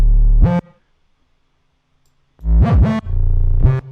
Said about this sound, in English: So this is the 808. It's a very simple 808 again.